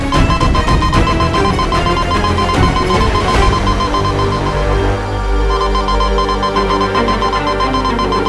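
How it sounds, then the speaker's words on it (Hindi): A security alarm blares in the fantasy realm of Veer Lok, a loud, continuous ringing tone that goes on without a break over dense music and effects, with no talking. "ये तो वीर लोग का सिक्योरिटी अलार्म है।"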